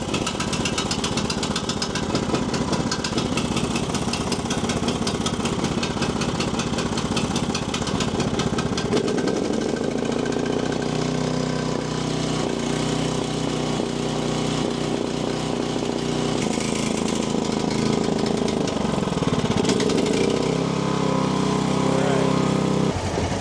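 A UTV and a snowblower engine idle together while warming up before clearing 16 inches of snow, a steady mechanical drone that shifts in pitch partway through and runs continuously and fairly loud throughout.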